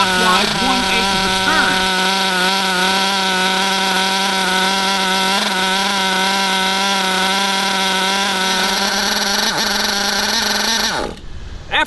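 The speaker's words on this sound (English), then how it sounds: "you want to let this engine run through a full tank of gas" Small RC nitro engine runs during break-in at a steady high-pitched buzzing whine that stays nearly constant for about eleven seconds, then cuts out abruptly.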